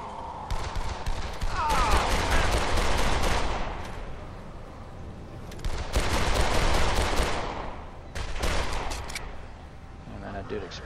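Rapid bursts of gunfire from a weak gun in the video game Dead Island, several rattling volleys with pauses between them, with a voice talking underneath.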